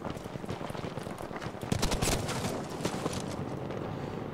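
Rapid gunfire from a newly picked-up weapon in an online shooter game, a dense continuous crackle of shots under steady game noise, moderately loud with no voices.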